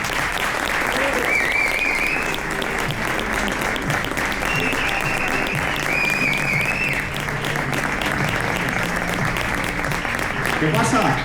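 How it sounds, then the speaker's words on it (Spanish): Loud, sustained audience applause welcoming the performers Arkano and Kike Gasu at the ImaginArte 2025 cultural event in Geldo, Castellón, dense clapping throughout with a few whistles and cheers from the crowd. "un fuerte aplauso para Arcano y Quique Gasu"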